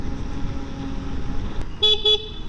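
The horn of an Ola Roadster X+ electric motorbike gives two short, bright toots in quick succession, sounding clearly over steady rumbling road and wind noise.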